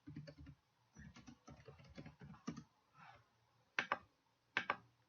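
Typing on a computer keyboard, quiet and close, in short bursts of rapid key clicks separated by pauses, ending with a few louder isolated keystrokes.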